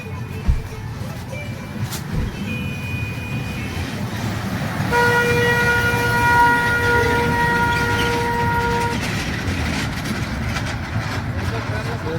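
A train rolls along rails near Chandipur in Odisha with a steady, close rumble, and a horn sounds in long sustained tones through the middle; voices talk over it.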